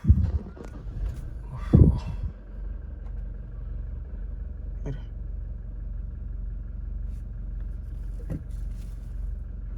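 An SUV engine cranks and fires up during rain, a burst of starting noise near the beginning before settling into a steady low idle rumble, with faint rain and outdoor sounds around it.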